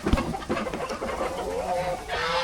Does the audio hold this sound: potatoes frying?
no